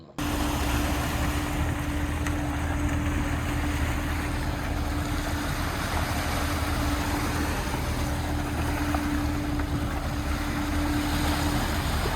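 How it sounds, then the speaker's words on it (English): A cruising sailboat motors under engine power up the Chesapeake Bay from Hampton toward Annapolis. A steady engine drone and hum carries on throughout, with rushing water and wind noise around it and no talking. "we motored all the way from Hampton Harbor to Annapolis"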